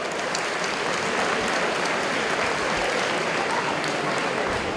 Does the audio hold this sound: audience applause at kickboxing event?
yes